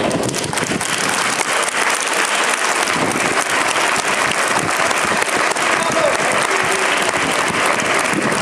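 An audience at a talk on social policy and economic crisis applauds steadily throughout, a dense, even wash of clapping that stays loud from start to finish.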